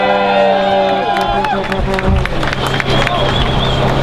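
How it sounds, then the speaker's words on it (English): A protest crowd outside Trump Tower claps and cheers, loud whoops and shouts rising over steady applause and babble, with a voice speaking on top. "Give a huge round of applause."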